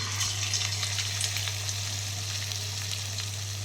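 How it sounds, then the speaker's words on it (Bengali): About one and a half kilos of chicken pieces fry in hot oil for chilli chicken, a dense, continuous, close sizzle with faint crackles and no talking. "দেড় কিলো মতো চিকেন আমি এখানে এখন ভাজবো"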